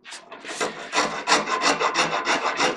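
A small rasp shapes a wooden mandolin neck in a quick run of about a dozen close, rhythmic rasping strokes, each a bright scrape with short gaps between, alone and close.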